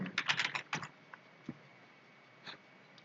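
Someone types a password on a computer keyboard, a quick close burst of soft key clicks followed by a few scattered, isolated keystrokes in a quiet room.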